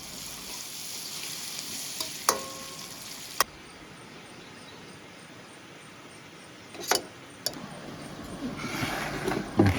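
Soft steady sizzle of nasi goreng (fried rice) frying in a pan at a campsite in Kuala Krai, Malaysia, with a few sharp clinks and scrapes of a utensil stirring, growing busier toward the end.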